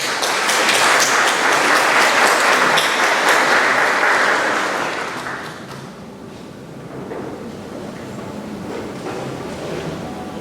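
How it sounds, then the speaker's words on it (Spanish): An audience at a lecture on constitutional control applauds, with dense loud clapping for about five seconds before it fades to scattered claps and a quieter room murmur. "Un fuerte aplauso, por favor."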